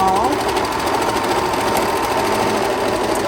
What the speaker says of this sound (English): we're gonna just keep on serging, and we'll trim this tail just by allowing it to pass through the serger